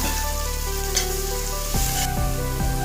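Onions and curry leaves fry in hot oil in a pan for egg fried rice, a close, steady sizzle with a few stirring scrapes near the end and no voices.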